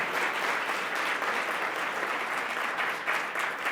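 Audience applause at a forum of Black women entrepreneurs at the close of a panel, a thick, continuous roar of clapping from a large crowd, loud and even from start to finish.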